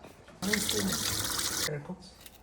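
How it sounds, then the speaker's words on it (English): Cold tap water runs from a kitchen faucet over sliced onions in a bowl, a steady close rush lasting over a second before cutting off, with a voice murmuring briefly underneath. "I'm gonna put a little bit cold water inside, and I'm gonna leave it on the side."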